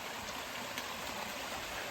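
A waterfall spills down a mountainside just past Unicoi Gap on the Appalachian Trail, heard as a faint, steady rushing wash of flowing water with no talk.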